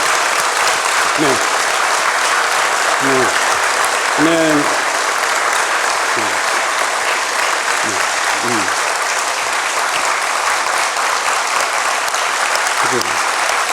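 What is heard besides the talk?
church congregation applause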